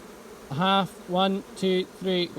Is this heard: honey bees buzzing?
yes